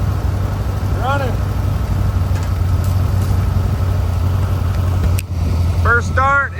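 A Plymouth SUV engine idles steadily on its first start in 21 years, a low continuous rumble throughout, with a few short voiced whoops heard over it.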